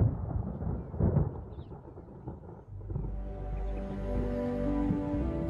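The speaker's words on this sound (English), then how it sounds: "Throughout Botswana, storm clouds are massing." Thunder from a storm in Botswana rolls and rumbles heavily, a deep grumbling roar that swells and fades, then gives way to a steadier low rumble with a faint wash of rain or wind.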